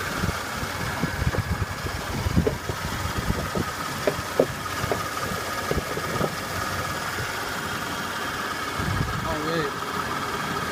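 A Toyota 4Runner 4WD with a manual gearbox idles with its fan belts running, giving a steady, close engine hum with a light ticking texture that continues evenly throughout.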